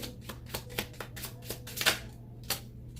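Oracle cards shuffled by hand, a close, rhythmic series of crisp riffling snaps at roughly regular intervals over a low steady hum.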